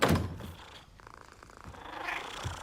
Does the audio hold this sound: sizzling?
no